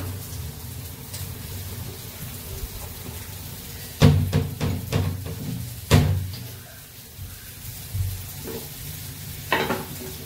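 Tempering spices sizzle in hot oil in a home kitchen while a utensil stirs them, with a steady close frying hiss broken by a few sharp scraping and clanking strikes against the pan.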